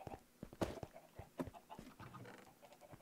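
Chickens in the Minecraft video game cluck in a string of short, choppy calls with a couple of louder squawks, layered over faint game background sounds.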